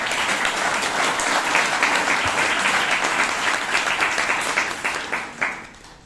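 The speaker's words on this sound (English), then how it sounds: "And can we have a round of applause?" Audience applause at a Toastmasters club meeting in Bangalore, a dense, steady round of clapping from a roomful of people that holds for several seconds before tapering off near the end.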